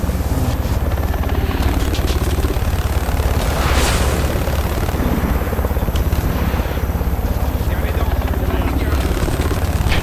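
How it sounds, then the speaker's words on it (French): Helicopter in a video game, a loud continuous rotor thrum with engine whine, sometimes overlapped by blasts or booms, while players talk over it throughout. "Faut qu'il y en ait qu'un qui tire sur l'hélico"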